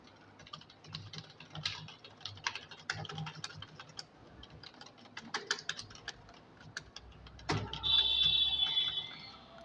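Numbers are typed into an Excel spreadsheet on a computer keyboard, with quick irregular bursts of close key taps, a louder clack near the end and a faint electronic tone.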